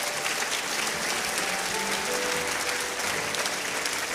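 A church congregation at a Swedish service applauds steadily for about four seconds, a dense, even wash of many hands clapping throughout with no break.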